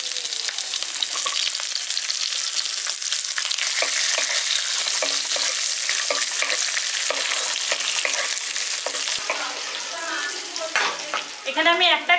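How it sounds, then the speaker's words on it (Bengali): Onions and green chillies fry loudly in a pan for village-style chili mushroom, a dense crackling sizzle with stirring strokes, then the frying drops away near the end as a brief voice and clatter come through. "পেঁয়াজটা দিয়ে দিচ্ছি।"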